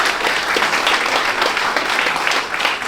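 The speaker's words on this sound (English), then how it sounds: "let's give him another round of applause" Steady audience applause for a young boxer, a 2025 graduate, at an Oklahoma boxing and combat sports celebration, with even, continuous clapping throughout.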